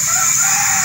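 A rooster crows steadily through the whole moment, loud and close, with no speech over it.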